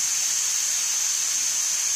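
Steam hisses steadily from a pressure cooker being released after cooking mutton keema biryani, a continuous bright rush of air with no talking.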